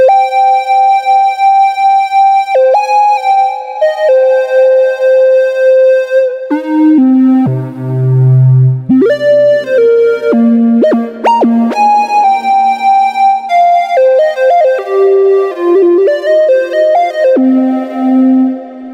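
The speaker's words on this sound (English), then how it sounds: "This is the sound of the triangle wave detuned." A Moog Source synthesizer plays a melodic line on a detuned triangle wave, clean sustained tones stepping between pitches with a gentle wavering from drifting oscillators, loud and alone.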